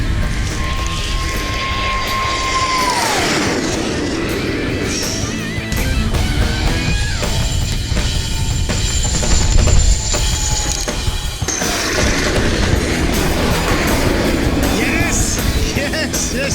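Loud, continuous jet roar of a fighter jet sweeping past, with a falling pitch as it goes by and a sustained rumbling wash that swells again midway through; voices speak faintly underneath.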